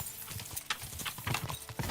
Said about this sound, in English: He's a good rider, guys and girls. I've got to tell you, he's got a speedy horse.